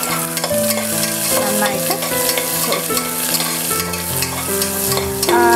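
Half of a medium onion sautés and is stirred in a pan for vegetable pulao, a steady close sizzle with scraping stirs under soft background music.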